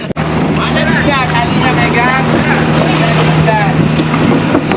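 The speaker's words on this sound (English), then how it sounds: "So this is our ferry ride" Ferry crossing from Bali with a loud, steady engine drone and rushing water throughout, wind buffeting the microphone and voices talking faintly underneath.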